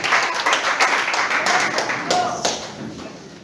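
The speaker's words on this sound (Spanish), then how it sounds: "Dale un aplauso al Señor." Congregation at a Spanish-language church service claps steadily, a dense, fairly loud patter of many hands lasting throughout, with voices calling out over it.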